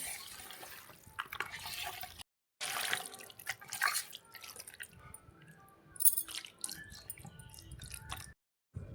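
Basmati rice being washed by hand in water, with irregular drips, splashes and squishy sloshing up close, broken by a couple of short silent gaps.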